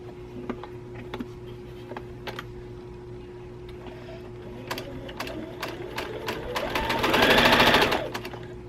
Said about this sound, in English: I'm at my sewing machine, and I'm just going to sew these half square triangles together